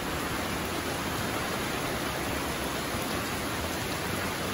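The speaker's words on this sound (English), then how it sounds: "Raining up a storm." Heavy rain storm pouring down steadily on a farm, a dense continuous hiss of rainfall that stays even and close throughout with no voices.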